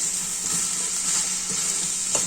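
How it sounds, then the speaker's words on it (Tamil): Chopped banana stem sautés in a hot pan for poriyal, a steady close sizzle broken by the soft scrape of stirring at regular intervals. "இப்ப நம்ம எல்லாத்தையும் வாழைத்தண்டை வதக்கிக்கலாம்."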